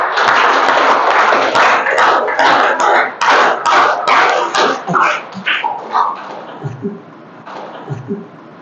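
A crowd of students and guests at a National Service Scheme camp event at a government intermediate college claps in welcome, a dense burst of applause that thins into scattered claps toward the end.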